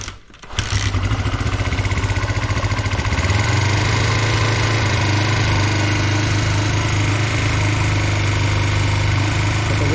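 A Honda CB125 Twin motorcycle with a running problem starts up and settles into a steady, loud, throbbing idle with its revs held high, close to the microphone, with no talking.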